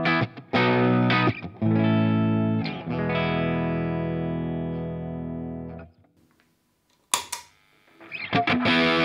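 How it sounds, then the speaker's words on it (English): An electric guitar plays through a ProCo Rat 2 distortion pedal set for a clean tone: strummed chords ring out and sustain, with a quiet pause and a few sharp strums at the end. "So this is my clean guitar sound."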